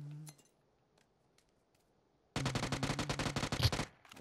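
Rapid automatic gunfire in PUBG: Battlegrounds, a sudden burst of about a dozen close, loud shots in quick rhythm after near silence, with a louder shot near the end and no talk.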